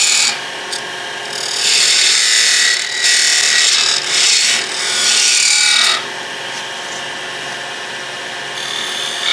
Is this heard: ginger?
no